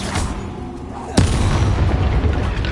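In Hogwarts Legacy, a fire spell is cast. A sharp burst lands midway, then a loud, roaring whoosh of flame runs on to the end.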